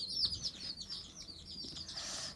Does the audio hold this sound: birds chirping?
yes